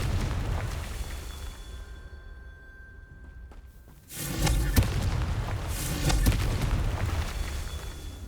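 A Confringo spell blast in the Hogwarts Legacy game, a dull rumble dropping nearly silent before a sudden loud explosion that keeps crackling and booming for several seconds.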